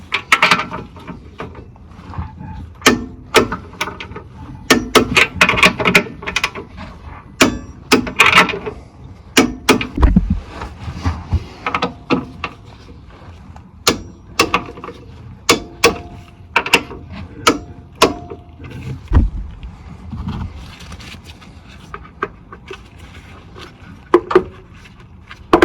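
Torque wrench snugging the oil pan bolts on a 1988-1992 Toyota Corolla 4A-F engine: a long run of sharp mechanical ratchet clicks and clunks, close and fairly loud, coming in uneven bursts with short pauses between them and no talking.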